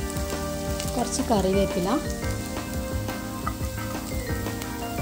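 Julienned ginger sizzling steadily in hot coconut oil for a Kerala-style chicken roast, a close, continuous crackle with a voice speaking briefly over it.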